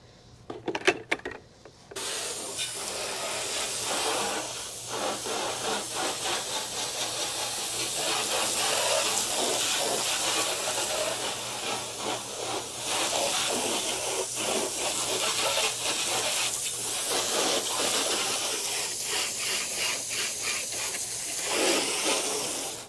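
A hose sprays water in a steady, broad hiss as it rinses a Nissan Frontier pickup truck. After a short pause at the start, the spray runs nearly continuously and rises and falls slightly as the stream moves over the body.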